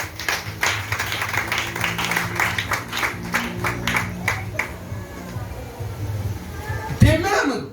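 A church congregation clapping in a fast, steady rhythm, loud and close over several seconds before fading as the clapping stops.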